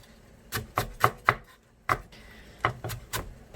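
A kitchen knife shaves a green onion into fine julienne strips, turning the stalk like sharpening a pencil. About nine crisp, separate cuts come in an uneven rhythm, close and clear with no talk.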